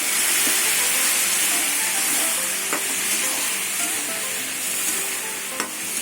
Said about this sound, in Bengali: জিরে ধুনের গুঁড়োটা দিয়ে দেবো সামান্য জল দেব যাতে মশলাটা পুড়ে না যায়